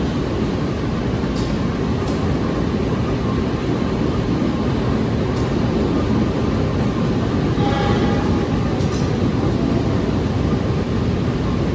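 Inside an economy-class Pasundan passenger train on the Surabaya to Jogja route, a constant heavy rumble of the moving carriage fills the space, with a few faint high squeals and clicks.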